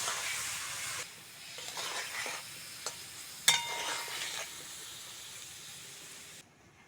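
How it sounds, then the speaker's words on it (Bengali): Chicken being stirred in a pan, with a soft, steady sizzle and hiss and a few light scrapes, one sharper knock midway, close by and fairly quiet, without any voices. "চিকেনটা হালকা করে নেড়ে চেড়ে নিয়েছি"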